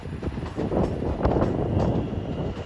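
A passenger train pulling out of Watford Junction on the West Coast Main Line, a close rumbling roll with light wind buffeting, brief and fairly loud.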